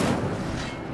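Incendio fire spell cast in Hogwarts Legacy, a sustained roaring whoosh of flame with dull thudding bursts, loud and dense for about a second.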